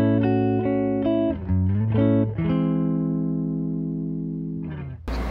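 Clean electric guitar played dry, a few distinct plucked notes and bends followed by a long sustained chord with no echo, ending in a brief noisy burst.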